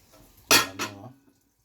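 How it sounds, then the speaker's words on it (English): Rice is tipped into a cooking pot in a yard kitchen, giving one sharp clattering rattle and a quieter second patter that trails off quickly. "so yard man I'll throw in the rice in the pot"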